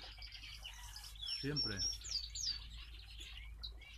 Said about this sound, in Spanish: en poco tiempo han entrado 4 diamantes y un jilguero